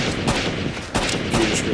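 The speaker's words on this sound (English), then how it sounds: "I guess I should start shooting terrorists" Loud, rapid gunfire from the video game Rainbow Six Vegas 2, several sharp shots in quick succession close up with dense noisy reverberation.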